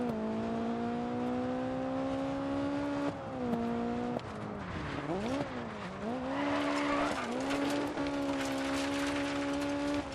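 A rear-wheel-drive rally car in DiRT 4 sliding and skidding, its engine droning in steady harmonic tones that dip and swoop as tires squeal and gravel scrapes, loud and continuous with no voices.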